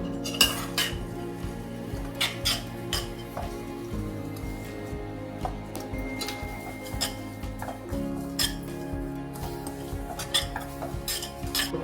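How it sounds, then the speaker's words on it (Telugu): Bombay semolina being dry-roasted in a kadai for chana dal payasam, heard as steady scraping and clinking of a metal spoon against the pan, with frequent light taps throughout and no talking. "ఇప్పుడు కొంచెం బాంబే రవ్వను తీసుకొని వేయించుకుంటాను"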